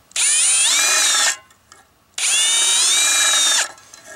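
A power drill bores a hole in a tin can in two loud, close bursts of high whining, the second after a short pause, with no talking.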